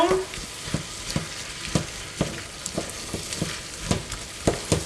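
Tomato puree being stirred into a pot of crab bisque, a spoon scraping the pot in a steady rhythm of roughly ten strokes over a low simmering sizzle, close and clear with no talking.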